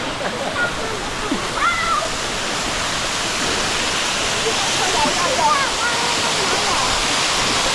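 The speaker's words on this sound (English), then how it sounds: "It's coming off the waterfall." Steady roaring rush of falling water fills the clip, broadband and constant, with people chatting faintly over it.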